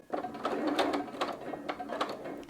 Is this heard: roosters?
no